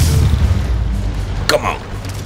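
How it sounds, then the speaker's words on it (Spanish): A loud, deep explosion in Spider-Man Remastered rumbles heavily at first and then trails off, with a brief crackling burst midway. "una explosión acaba de..."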